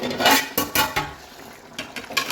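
Clattering metal cookware as a lid goes onto a pot of simmering chicken on low heat, with several sharp clanks and knocks spread across a couple of seconds over a faint kitchen background.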